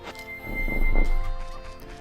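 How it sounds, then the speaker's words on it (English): A horse gives a single brief whinny in the video game The Legend of Zelda: Majora's Mask, over a steady tonal background, fairly close and moderately loud. "I hear a horse."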